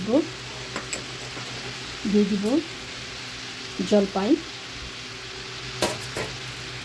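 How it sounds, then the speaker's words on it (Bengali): Red amaranth greens with green chillies frying in a pan, a steady low sizzle running underneath a voice speaking at intervals, with a few faint clinks. "এখানে শাকটা একটা ফ্রাই প্যানে দিয়ে দিয়েছি"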